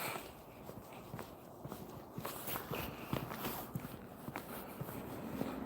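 Footsteps of a person walking outdoors for exercise, a steady series of soft scuffing steps close by against light background noise, with no talking.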